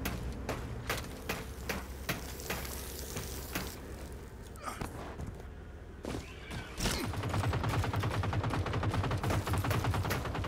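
Cannons fire in a dinosaur video game as a long, dense volley of sharp cracking shots. The barrage runs close and steady, then thickens near the end.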